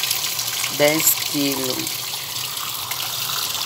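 Water streams steadily into a Suggar Lavamax 10 kg washing tub, a continuous close gushing hiss as someone speaks briefly over it.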